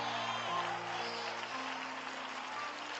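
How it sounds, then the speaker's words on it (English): An audience of women claps at a pre-marriage counseling session, a steady wash of applause filling the room, with a low hum and tonal background underneath. "Clap, ladies, right there."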